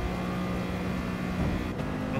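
A race car engine in the GT Sport video game, Manufacturer Cup race, drones steadily at high revs while working through the gears, a continuous loud buzzing tone with a brief shift break near the end.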